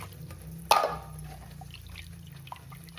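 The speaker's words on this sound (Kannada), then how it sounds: "ಒಂಚೂರು ನೀರು ಪಾಡ್ದು" Water poured into a pan of mixed gravy for palak paneer, a short splashing burst near the start that quickly settles into quiet simmering background.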